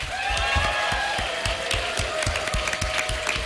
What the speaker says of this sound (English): let's have a huge round of applause for both of our volunteers